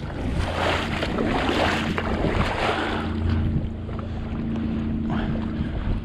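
An outboard motorboat engine drones steadily on open water, with wind buffeting the microphone and water rushing past.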